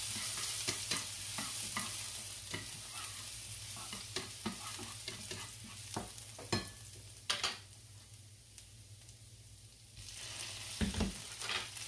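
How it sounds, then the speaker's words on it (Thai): Garlic stir-fried in a little oil in a pan for fried rice, with a steady close sizzle and repeated scraping and tapping of a spatula against the pan, the frying easing briefly before picking up again. "ใส่กระเทียมลงไปนะคะผัดให้หอมค่ะ"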